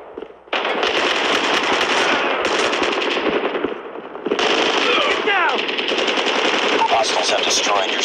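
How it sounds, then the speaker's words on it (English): A sentry gun in Call of Duty Mobile fires loud, near, rapid automatic bursts almost without a break. There is a short pause before the shooting starts again, and game voice prompts can be heard faintly underneath. "Friendly sentry gun deployed."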